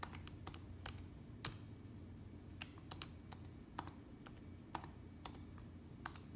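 Quiet, unhurried typing on a computer keyboard: scattered individual key clicks over a low steady background hum.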